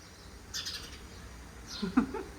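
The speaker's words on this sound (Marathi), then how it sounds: "आत्ता किचनमधून ना मला चिमणीचा आवाज येतो" A couple of brief, high chirps from a house sparrow in a home kitchen, faint and scattered against quiet background noise.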